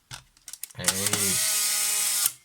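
A restored Polaroid SLR 680 instant camera whirs as its autofocus motor runs, a steady mechanical hum lasting over a second after a few brief clicks and handling taps, then stopping abruptly.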